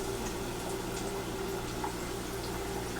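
Chicken wings fry in a pot of hot oil, a quiet steady sizzle and hiss with scattered tiny crackles, heard alone without talk.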